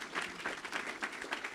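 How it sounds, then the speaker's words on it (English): Audience applause for competition teams and participants at the E-Squared finals, a steady wash of many hands clapping together, moderately faint and continuous for the whole moment. "Let's give another round of applause and congratulations to all of our teams"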